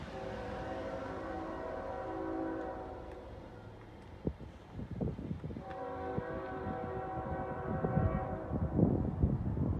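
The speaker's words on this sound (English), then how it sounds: "Wow, that was a long train" A long CSX freight train rumbles past with steady rolling clatter and harmonic horn-like tones, loud and continuous, with rising crunching wheel and wagon noise toward the end.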